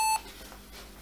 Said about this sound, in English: That beeps normal.